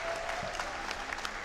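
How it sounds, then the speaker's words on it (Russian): Audience applause at a speedrunning marathon event, steady, broad clapping filling the whole stretch at moderate distance with no voices on top. "Они хлопают ровно в тот момент, когда он съезжает"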